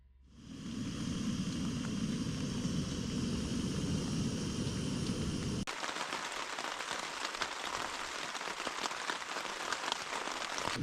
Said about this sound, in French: Et là, il pleut, mais on le savait.